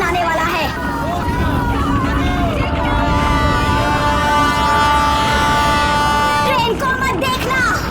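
A train passes with a sustained horn blast and rumbling rail noise in a horror-show scene, loud and close, mixed with crowd babble and voices talking over it.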